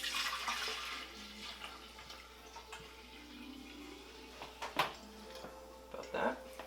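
Liquid pours into a small water jug while sanitizing it for home brewing, intermittent glugging splashes and trickles close by, with soft voices in the background.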